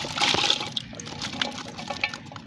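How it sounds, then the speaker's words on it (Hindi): Half a glass of water poured into a pan of potato keema with ginger and garlic: a short splashing gush up front, then softer trickles and sizzling drips, close and clear. "आधा गिलास पानी शामिल करेंगे।"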